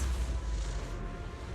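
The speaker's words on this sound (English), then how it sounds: "Move in during the gaps between explosions." Explosions in the video game Zenless Zone Zero, a dense, rumbling low boom with broadband crackle that stays loud and sustained throughout, with no voices over it.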